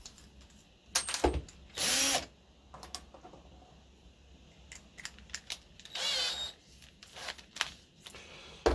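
A hand screwdriver tightening self-tapping screws into a guitar body, a few short bursts of squeaky turning and ratcheting separated by quiet pauses, close and fairly faint.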